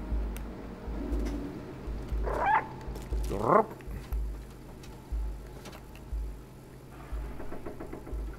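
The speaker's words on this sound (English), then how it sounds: "At least we have a cute cat here." Cat in the video game Stray, with two short meows standing out over a low engine-like hum, soft ticking clicks and ambient game noise, no speech.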